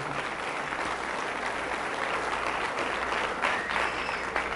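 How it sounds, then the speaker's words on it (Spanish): A church congregation applauds steadily throughout, a dense sustained clapping of many hands with no pauses. "Fuertes aplausos a Jesús de Nazaret."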